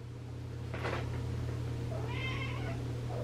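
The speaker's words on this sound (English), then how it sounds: "Richard, be nice to the cats" A house cat meows indoors, with a short cry followed by a longer, softer meow over a steady low hum.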